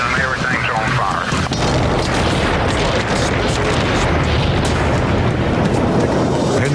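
Huge explosion at a rocket fuel factory in Henderson, Nevada, in a small desert town: a loud, sustained roaring rumble with crackling bursts, continuous for several seconds without pause.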